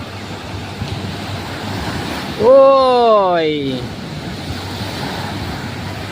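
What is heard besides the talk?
ocean waves on a beach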